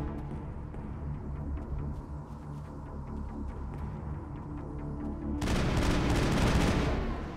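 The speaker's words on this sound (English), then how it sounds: "I should switch over to the assault rifle now" Sustained assault rifle fire in Mass Effect bursts in loud and dense after a stretch of rumbling game ambience, continuing as a steady clattering barrage.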